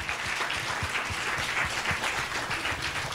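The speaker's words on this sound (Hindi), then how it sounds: "ताली बजाएंगे प्रभु के लिए।" A church congregation at a Sunday service claps steadily for the Lord, a dense, even wash of many hands held at a constant level throughout.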